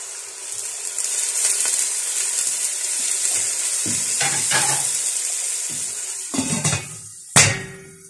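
Large chunks of tomato sizzle and hiss loudly in a hot pan after a splash of water goes in, a steady frying crackle broken by a few clanks and stirring scrapes near the end.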